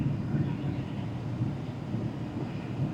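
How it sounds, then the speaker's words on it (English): Steady blower motor whirring in a 2015 Ford F450 with the 6.7 PowerStroke diesel, a continuous low-pitched rushing hum at even volume throughout, with no talk over it. "See if the blower comes on."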